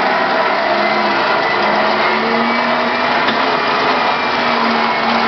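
A 12V electric winch driven by wireless remote, rated around 9000–12000 lb, drags a Nissan Navara out of a muddy bog, giving a steady, continuous motor whine and hum that stays level throughout with no talking.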